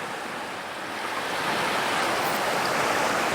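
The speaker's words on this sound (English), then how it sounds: "The river is full." A full river in late February rushes past in a steady, broad roar, close and loud, with no voices over it.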